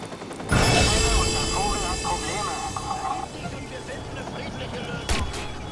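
Helicopter rotor and engine noise in the video game Watch Dogs, a steady broad drone that starts abruptly and holds throughout under talking and other game sounds.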